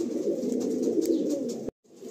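Black pigeons coo steadily and close in a loft, a dense low warbling murmur that cuts off abruptly near the end before resuming faintly.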